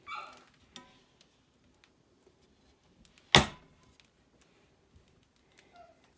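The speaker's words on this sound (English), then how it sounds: "I apologize for my whiny dog." A dog whines and yelps in short, sharp bursts, with one loud yip in the middle and fainter whimpers before and after, close by in an otherwise quiet room.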